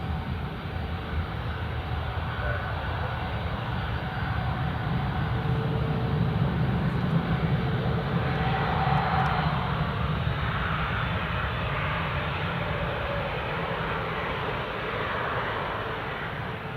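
A British Airways Airbus A321neo departing Newcastle International Airport for London Heathrow gives a continuous engine roar that rises gently and recedes, heard at a distance in rainy conditions.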